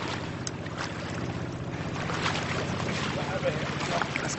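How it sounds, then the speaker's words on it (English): A boat engine approaches over the sea near a remote Indonesian island, a steady low motor drone under wind and wave noise, with voices breaking in over it. "I can hear the sound of an engine"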